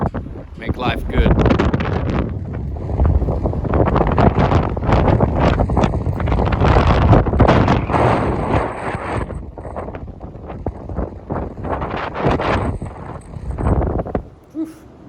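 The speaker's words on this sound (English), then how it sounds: "Windy." Strong wind buffets the microphone outdoors before a helicopter flight, loud and gusting nearly throughout, with a person talking briefly.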